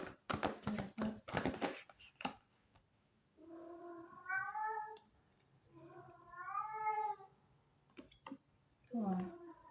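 A pet cat meows several times near a door, drawn-out wavering calls spaced a couple of seconds apart, following a burst of close talk and clatter at the start.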